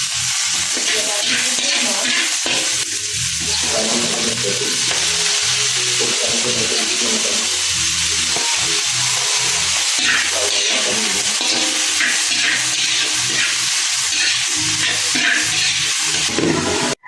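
Garlic, ginger and onion sauté in oil in a pan, frying right after fish, giving a steady loud sizzle and hiss throughout, with occasional stirring and no talk.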